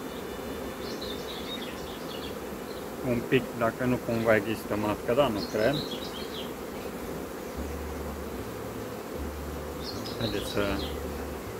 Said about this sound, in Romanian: Iată, aici sunt albinele rămase din roiul respectiv, un roi natural